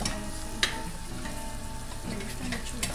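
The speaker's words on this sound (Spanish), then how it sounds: "ahora con la cebolla porque se vayan sofriendo los dos" Chile and onion sauté in a pan for a sofrito, a continuous close sizzle with a few sharp crackles and faint stirring scrapes, no talk over it.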